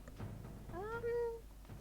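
A pet cat gives a single short, rising-then-falling meow, close but fairly quiet, against a low room background.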